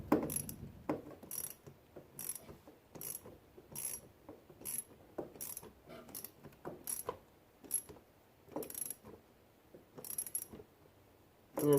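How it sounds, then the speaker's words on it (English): A ratchet-type tool tightens a hose clamp on a radiator hose in a Ford Ranger, making repeated short bursts of crisp, close clicking with brief pauses between strokes. "then I'll put the smaller clamp on there"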